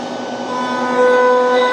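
A CNC spindle runs steadily, a loud sustained whine with bright tonal lines that rise slightly in pitch as it settles into cutting, with no talking over it.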